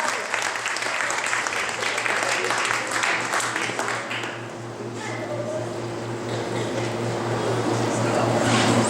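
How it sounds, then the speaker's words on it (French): An audience at a school spelling bee applauds a student with steady, sustained clapping that dips briefly midway, then swells again toward the end over a faint background hum. "On l'applaudit très, très, très fort."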